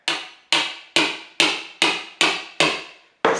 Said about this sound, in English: just kind of hammer that in there